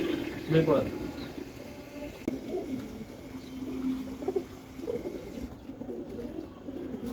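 Tournament racing pigeons coo softly in low, repeated murmurs at a pigeon keeper's home, with someone talking over them throughout.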